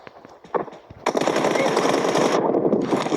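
Video game gunfire in a 1v1 match: a few sharp shots, then a dense, loud burst of rapid automatic fire that stops briefly and resumes, with faint talk early on.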